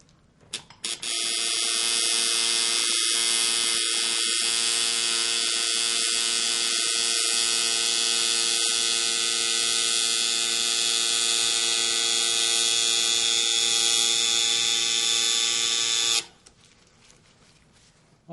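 Tattoo machine with tube buzzing continuously while tattooing a black line, a steady close electric drone with a high whine, running unbroken for about fifteen seconds before stopping.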